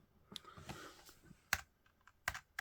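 Scattered keystrokes clack on a computer keyboard, a few light taps followed by louder, sharper presses with short pauses between.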